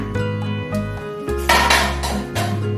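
Cooking pot handled in a home kitchen while preparing taro rice: metallic clanks and scrapes of the pot, close and fairly loud over a steady background hum.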